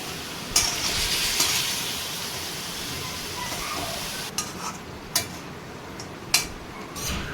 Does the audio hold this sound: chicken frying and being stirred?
yes